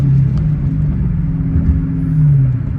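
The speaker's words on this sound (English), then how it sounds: "Do some revs for y'all." A new Dodge Hellcat's engine rumbles loudly up close, revving up and settling in low, throaty swells over a few seconds with no talking.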